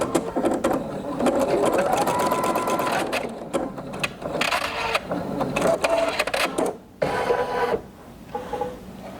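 A Sapphire 85 embroidery machine stitches a Valentine's mug rug, its needle running in a loud, rapid mechanical chatter that keeps stopping and restarting in short bursts.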